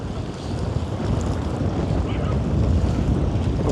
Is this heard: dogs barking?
no